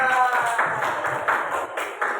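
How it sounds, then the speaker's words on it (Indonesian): A classroom of participants in a computational thinking training session claps for group 4, a dense, steady patter of many hands sustained throughout at moderate loudness. "kita beri tepuk tangan untuk kelompok 4"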